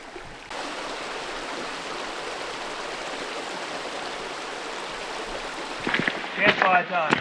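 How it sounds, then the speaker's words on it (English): Water trickles and rushes steadily in a mountain stream beside a bush camp in Australia, a constant close wash of sound, with a few brief knocks and clatters near the end. "I've stopped and I can hear the trickling of water"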